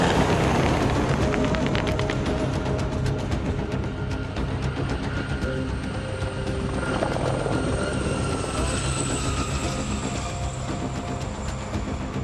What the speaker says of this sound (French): L'appui aéromobile est constitué d'un hélicoptère d'attaque Tigre et Gazelle